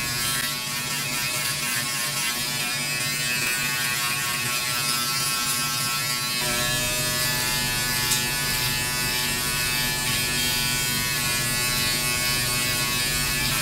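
A Philips BodyGroom 1100 body trimmer with a 0.5mm guard trims damp, sweaty armpit hair, giving a steady close electric buzz that runs continuously and loudly, its tone shifting slightly partway through as the blade moves over the skin.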